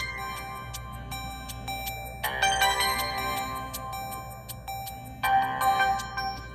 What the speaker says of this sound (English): Once the timer finishes, it's gonna start ringing.